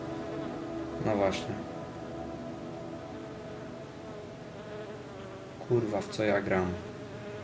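A fly buzzes in a video game in two short bursts separated by a quieter stretch, with someone talking over it between the buzzes.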